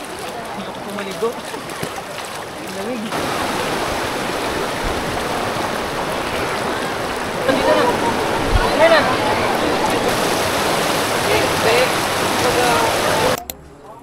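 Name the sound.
river water flowing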